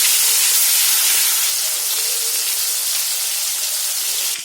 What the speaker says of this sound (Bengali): এখন আমি মাংসের পিসগুলো দিয়ে দেব।